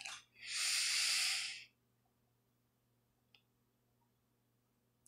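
A deep, loud inhalation during a guided breathing exercise, a single sustained breath in lasting about a second and a half, followed by near silence with a couple of faint clicks.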